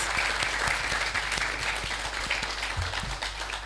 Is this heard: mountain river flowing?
no